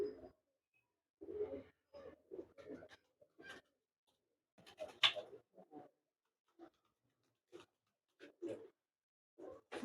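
Champion racing pigeons coo close by, in soft scattered bursts separated by short silences.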